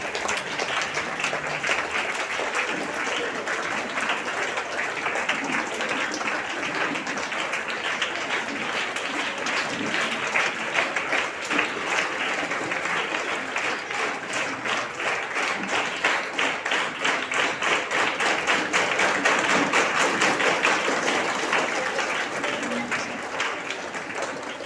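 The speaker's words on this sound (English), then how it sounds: "Let's all rise and give them a standing ovation." An audience rising for a standing ovation as dignitaries arrive at a National Reading Day event, sustained steady applause from a large crowd that holds for the whole stretch, dense and even with a slight swell near the end.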